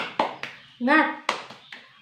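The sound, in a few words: children clapping a cheer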